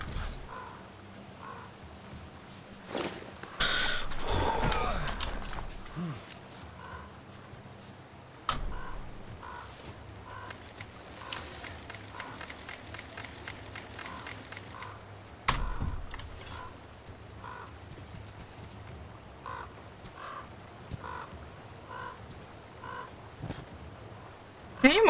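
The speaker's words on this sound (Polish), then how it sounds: "Tu jakiś ptak się wydziera" A crow cawing in the video game Metro Exodus, a few harsh calls standing out against quiet ambience, ticking and clicking, with bursts of other game sounds in between.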